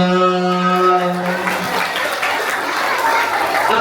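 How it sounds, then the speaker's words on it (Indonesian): Children at an elementary school Maulid Nabi celebration break into a burst of applause mixed with crowd chatter, following a sung or held voice note at the start. "Tepuk tangan dong."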